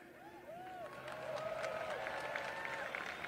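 A crowd at a Los Angeles political rally breaks into cheering and applause, a faint, distant wash of clapping and whoops that swells and holds steady, with tonal whistles and a voice near the start.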